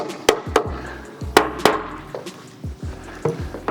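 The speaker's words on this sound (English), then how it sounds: "Hammering back and forth, nice and even," Sharp, uneven hammer blows strike wooden joints of a teak outdoor bench during assembly, several hits spaced across the moment, close and loud with short resonant decays.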